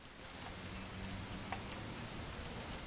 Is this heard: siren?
no